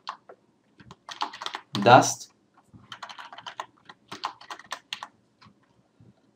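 Quick, light clicking of keys on a computer keyboard while working in After Effects, irregular bursts of typing with a brief louder rustle partway through.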